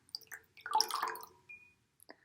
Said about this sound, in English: Drift your fingers through the water.